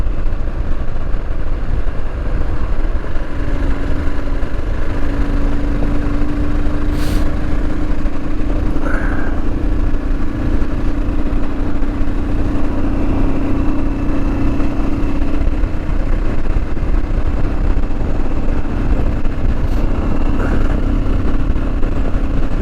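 A Royal Enfield Himalayan motorcycle being ridden, its steady single-cylinder engine drone mixed with constant wind rush, loud and continuous with no talking.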